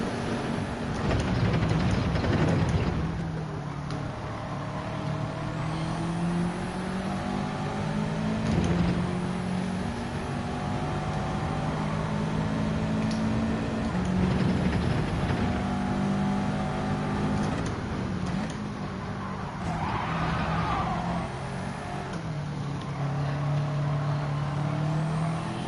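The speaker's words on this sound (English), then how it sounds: "You have two people just fly past you." Race cars in Gran Turismo 7 roar past during a daily online race, engines droning and rising in pitch over sustained steady motor noise, with several swells as cars draw alongside and fly by.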